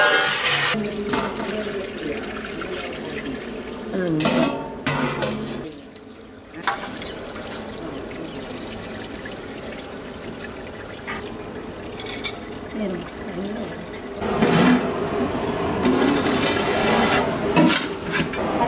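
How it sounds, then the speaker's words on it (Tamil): Rice cooking water being drained for a large 6 kg batch of mutton dum biryani: a loud rushing pour of water with scraping and rubbing of the pot, coming in surges and pausing briefly. "அதுக்காக இப்போ இந்த தண்ணியை வடிச்சிடலாம்."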